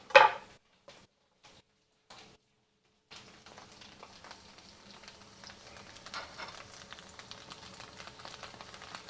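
After a few sharp knocks and a short silence, potatoes for Korean gamja jorim sizzle and fry in a pan with a soft, steady crackle, low and constant with small pops.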